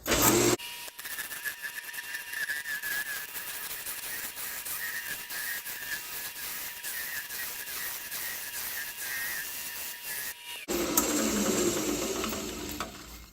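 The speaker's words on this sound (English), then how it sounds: "I'm going to use a scraper just because cherry and maple cut so good" A scraper cuts a spinning cherry and maple wood vase on a lathe, giving a continuous close hissing scrape for about ten seconds before it stops and a different, rougher shop noise follows.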